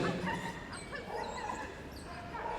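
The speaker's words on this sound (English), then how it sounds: "You can hear her yelping with joy as she makes her way round" During a Crufts 2016 Kennel Club British Open agility final, a dog lets out repeated high yips and whimpering yelps as it runs the course, set against a busy arena background.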